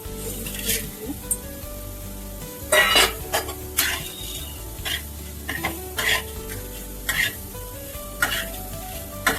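Masala and onion roasting in a pan for mutton rassa, a low steady sizzle broken by several loud scraping stirs and spoon clatters against the metal, close and irregular.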